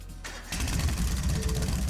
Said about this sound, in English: Right then, first is starting up the engine.